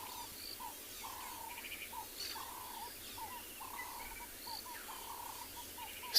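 Distant birds repeat short territorial chirping calls at irregular intervals over a steady background hum of insects, at sunset on safari.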